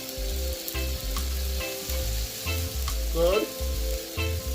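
Onion sizzles loudly in a hot pan beside roasting chicken breast as it is turned, a continuous frying hiss with scraping stirs and a rhythmic low hum underneath, while a man murmurs briefly.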